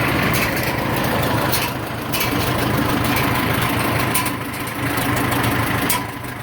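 A rebuilt 1947 Farmall M tractor engine idling steadily after its first start, a loud constant low chug running close and unbroken with no talk over it.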